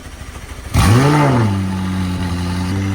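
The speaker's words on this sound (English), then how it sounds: "we actually need a cold start" A car engine cranks and fires up with a loud rev that swells then settles into a steady, rumbling idle.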